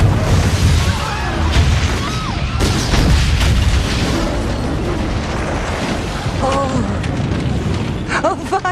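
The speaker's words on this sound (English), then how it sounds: "fireworks, lovely." Fireworks booming through a film scene from The Patriot, with repeated broadband bursts and crackle running steadily over several seconds, loud and dense, while voices talk in the background.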